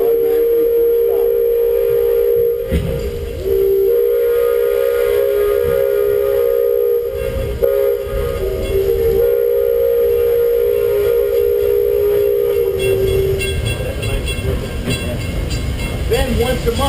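An amusement park train slows and comes automatically to a stop during a daily test run, a steady loud tonal whine of braking holding for about thirteen seconds before fading into rumbling noise, with a voice talking over it.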